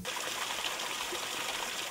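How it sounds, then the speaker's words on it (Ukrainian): Mountain stream water in a village in winter flows in a steady, soft murmur and trickle, continuous and fairly quiet, with no voices over it. "На вулиці шум тиші порушує тільки дзюркотання води."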